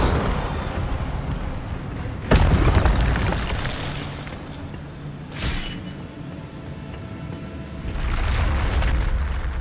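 Fire spell blasts from Hogwarts Legacy: a sharp loud boom bursts out, a smaller blast follows a few seconds later, and a third swelling whoosh of flame rises near the end, each over a low rumbling backdrop.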